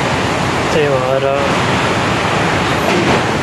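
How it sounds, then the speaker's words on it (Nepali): Steady, dense hiss of rain falling outdoors fills the whole clip, with a voice briefly speaking beneath it. "बाहिर पानी परेको छ कि"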